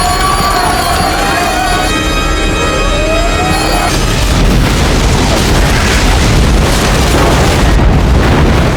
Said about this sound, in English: a violent explosion tears the German destroyer to shreds